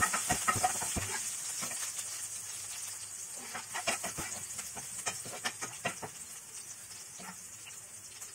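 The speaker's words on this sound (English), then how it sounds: "Now add garlic and green chilies and roast it for some time." Garlic and green chilies sizzle as they roast in a pan, a steady hiss laced with irregular crackles and spits, close and moderately loud with no voices.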